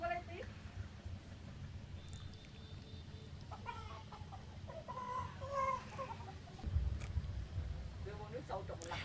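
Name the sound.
live chickens clucking at a market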